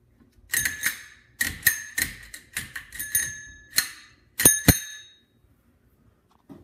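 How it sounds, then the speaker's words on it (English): A small bell on a cheap used bicycle rings in a quick series of bright, close metallic dings and double strikes, then falls silent. "Now this bike, bell included"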